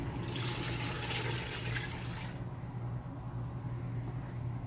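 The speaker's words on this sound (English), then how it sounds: "we need to add 4 cups of water" Four cups of water being poured into a pot for cooking watermelon rinds make a quiet, steady splashing rush that stops about halfway through, leaving faint kitchen hum and a few light drips.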